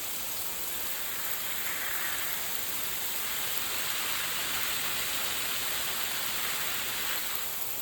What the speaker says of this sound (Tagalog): May pang ulan na naman.